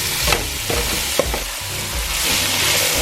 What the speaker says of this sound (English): So here are our nopales. We're just gonna put it right into the oil.